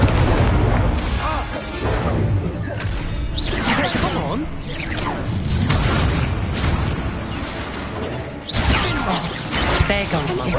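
An Incendio fire spell in a Harry Potter video game erupts with fiery whooshes and booming bursts amid a chaotic spell duel, loud and close, with shouting voices over the blasts.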